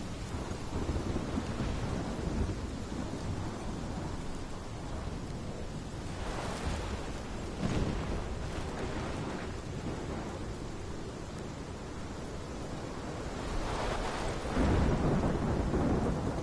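Steady rain hiss with rolling thunder swelling twice, a rumble near the middle and a louder roll near the end, in a storm scene from the video game Life is Strange; no talking.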